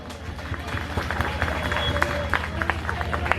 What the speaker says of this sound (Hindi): आपकी तालियों में जोर थोड़ा तो होना चाहिए